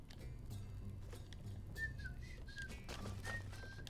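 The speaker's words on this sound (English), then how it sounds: "I can whistle with my teeth." Person whistling through their teeth, a few thin, faint wavering tones in short bursts over a low background hum.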